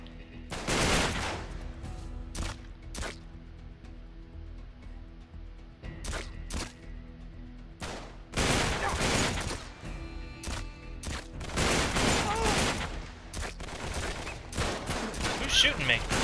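Bursts of gunfire from Uncharted 3 in the London Underground: repeated sharp volleys and rapid automatic fire, loud and close, spaced in clusters through the passage, with a voice talking over some of the shots.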